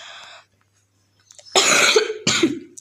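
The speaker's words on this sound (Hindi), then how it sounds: "सॉरी थोड़ी खांसी आ रही है।" A speaker pausing during a nursing lecture coughs twice, two sharp, loud bursts close to the microphone after a short stretch of quiet.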